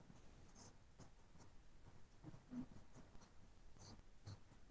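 Chalk or marker writing on a board during a Class XII maths integration lesson, with faint scratchy strokes in short bursts against a quiet room background.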